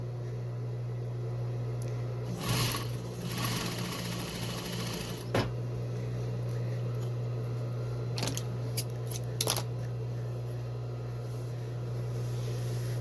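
Sewing machine stitching fabric pieces together for free-cut quilt piecing, a low steady motor hum running throughout, with a few brief bursts of handling noise and snips along the way.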